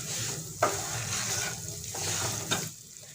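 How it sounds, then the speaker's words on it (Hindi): Semolina roasts in ghee in a kadhai with a steady, close sizzle, broken by periodic scraping stir strokes. "सूजी हम ब्राउन होने तक भूनेंगे।"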